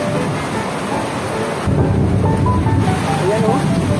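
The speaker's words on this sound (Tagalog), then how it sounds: "Gusto ko lumabas, pero malakas ang kidlat." Heavy rain pours steadily with a low rumble of thunder rolling in partway through, dense and close with no voices.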